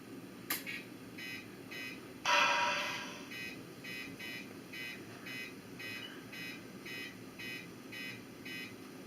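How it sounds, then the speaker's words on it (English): A Bachmann 2-6-0 Mogul model train under fresh track power gives off a faint, steady series of evenly spaced electronic beeps and buzzes. A sharper crackling burst cuts in early, then the pulsing pattern carries on quietly. "You might have heard some beeping, buzzing noises."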